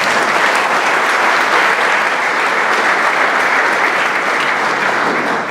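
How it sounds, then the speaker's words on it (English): Sustained applause from an evening audience at a team gathering, honoring two team doctors; dense, steady clapping fills the whole stretch at high level without pause. "Let's give them a round of applause."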